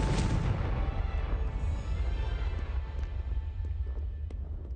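A Confringo blasting curse bursts in Hogwarts Legacy, a loud booming explosion at the start that rolls into a long rumbling decay, with a few faint crackles trailing off.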